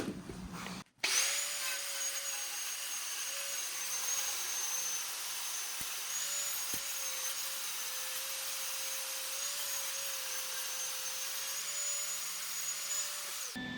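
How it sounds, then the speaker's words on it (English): A power grinder works on the rocker panel of a 1994 Mazda MX-5 Miata NA, starting with a sharp bite after a brief pause and then holding a steady, loud whine with slight pitch wobble for over twelve seconds. "So grind it, Nick."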